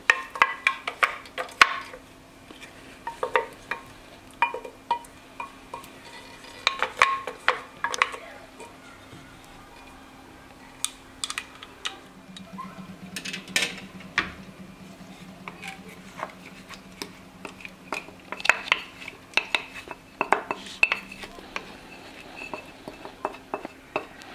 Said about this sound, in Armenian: Անընդհատ խառնում ենք ընթացքում։